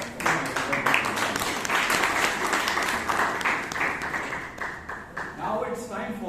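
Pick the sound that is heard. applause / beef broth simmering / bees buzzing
applause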